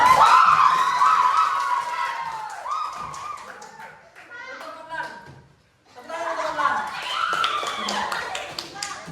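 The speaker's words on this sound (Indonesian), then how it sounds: "silakan kita berikan tepuk tangan yang meriah untuk ini." Schoolchildren in an Indonesian classroom clap, tap and cheer for the last match of a lesson game, a loud, dense burst of applause and shouting that dips briefly midway and then swells again, with young voices mixed throughout.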